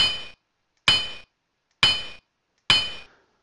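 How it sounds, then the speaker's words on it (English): Four loud, sharp metallic hammer strikes used as a wrong-answer sound effect in a PowerPoint quiz, evenly spaced about a second apart, each ringing briefly before cutting to silence. "each one of these will be a hammer sound."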